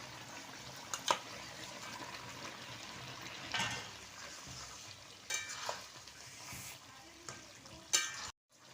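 Fried tilapia pieces go into a simmering Bengali curry with potato and eggplant, bringing a low bubbling sizzle with occasional sharp clinks and scrapes of a spoon against the pot, quiet and close.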